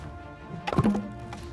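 A single heavy chop of an axe into a tree trunk in the video game Sons of the Forest, a close, solid thunk with a short resonant ring, then a faint second knock.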